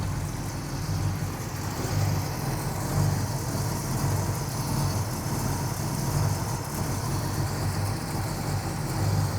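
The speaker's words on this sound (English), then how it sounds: "It's got that great American muscle sound." A 1968 Pontiac Firebird 400 convertible V8 idles after a cold start with a steady low rumble and slight lope, close and constant without talk.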